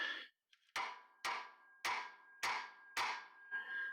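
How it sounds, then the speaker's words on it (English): A hammer strikes the rear strut rod of a 1979 C3 Corvette five times at an even pace, each close, loud metallic blow ringing briefly. "just take a hammer to it and hammer the crap out of it"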